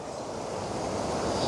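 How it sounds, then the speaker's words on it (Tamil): Fast water rushes continuously at an overflowing reservoir in Sri Lanka, a loud, broad, steady roar with wind buffeting the microphone. "எப்படி தண்ணி வேகமாக அடிக்குதுன்றதை தான் பார்க்குறீங்க"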